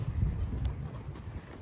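Horse hooves clop on a gravel parking lot used as a warm-up pen at a barrel race, soft and irregular steps at moderate distance, with no talking.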